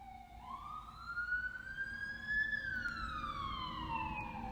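A wailing siren rises and falls as an emergency vehicle passes at moderate distance, over a low traffic rumble.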